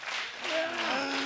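A pro wrestling crowd in a NOAH arena claps and cheers in a brief, dense burst of applause.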